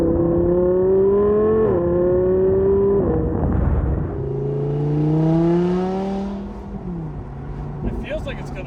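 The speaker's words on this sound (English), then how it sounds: "This thing sounds awesome too." An Audi R8 engine in sport mode revs and pulls away, its tone rising and falling through several loud close surges as the car drives off.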